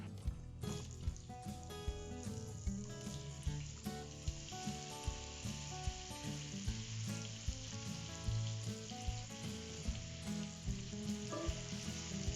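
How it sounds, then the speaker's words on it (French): Carrots fry in a pan of melted butter and sugar, giving a steady close sizzle broken by regular light knocks and scrapes of stirring, with no one talking. "Dans une poêle, mettez le beurre, laissez-le fondre. Ajoutez le sucre. Quand le mélange est mousseux,"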